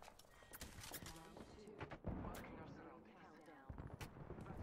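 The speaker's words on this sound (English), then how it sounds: "Where are they firing at me from?" Gunfire rattles in an Apex Legends match, with repeated sharp cracks and a heavy burst at midpoint, mixed with game effects and chatter over a busy backdrop.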